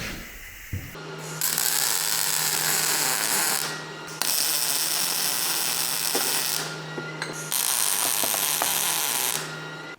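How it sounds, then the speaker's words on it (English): LED light mounts being welded onto a skid steer with a Rebel welder: three long buzzing, crackling arc bursts separated by short pauses, close and loud over a low hum, with no speech. "And then I'll be able to take the light off and finish the weld."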